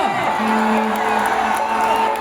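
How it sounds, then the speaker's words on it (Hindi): Audience at a stage show at Ramraj Mandir cheering and whooping, a dense crowd roar with a sustained tonal note running through it, loud and continuous throughout. "एवरीवन जोरदार तालियां"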